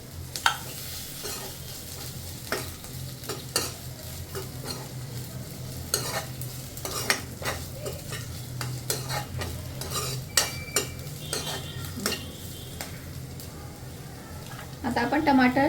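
Mixed vegetable bhaji with grated coconut being stirred in a pan, with repeated sharp scrapes and clinks of a spoon against metal over a low sizzle, close up, while a voice talks intermittently.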